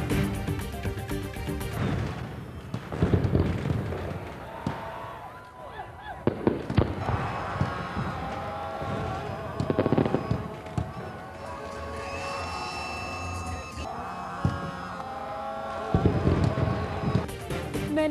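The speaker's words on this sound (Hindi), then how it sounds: "आतिशबाजी का जबरदस्त मुजाहिरा।" Pakistan Independence Day fireworks display at Minar-e-Pakistan, irregular loud bursts and crackles over a noisy crowd, with several distinct booms spread across the stretch.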